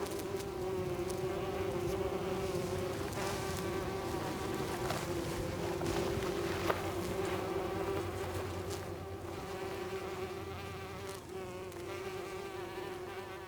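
Dense buzzing of many bees, flies and other insects over a sown wildflower margin beside a farm field, a steady close hum with individual insects droning past, no voices.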